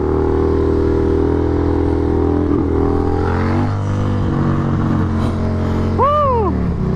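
A motorcycle runs steadily close by, its engine droning with some rumble and clatter through the clip, while another vehicle briefly sweeps past in a rising whine near the end.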